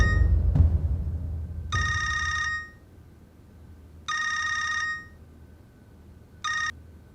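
A telephone rings in three electronic trilling bursts, the last one shorter, in a drama scene that opens with a dull thump before the rings.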